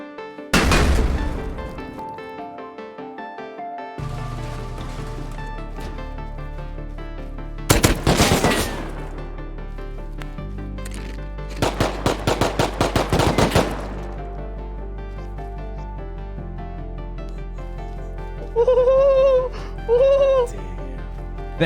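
Gunfire traded between an M9 pistol and an AK rifle in the Rust video game: sharp isolated shots, then dense rapid bursts, with a later pair of short bursts, all fairly close and loud.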